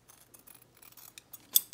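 Scissors snip through a fabric-covered journal cover and paper in a few short, quiet cuts, ending with a sharper closing snip.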